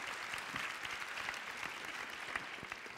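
Sustained applause from an audience at a palliative care health evening in Lille Grand Palais, a steady even wash of many hands clapping, heard alone.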